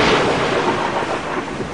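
Heavy rain falls through a rumbling roll of thunder. Dense, loud and continuous, with no voices over it.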